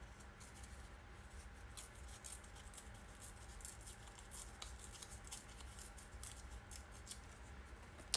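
Paper file folder being torn apart, a faint, continuous crinkly tearing and rustling with small snips and ticks, close but quiet, no voices.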